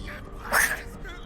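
A single short sneeze bursts out in the middle, fairly close, over a faint steady background hum.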